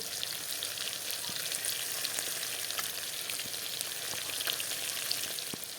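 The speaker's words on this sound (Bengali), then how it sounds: "মাছগুলো একটা পিঠ উল্টিয়ে দিলাম মাছগুলোকে লাল লাল করে ভেজে নেব" Pieces of rui fish fry in hot oil in a pan, a dense, even sizzle and crackle heard up close and unbroken for a few seconds.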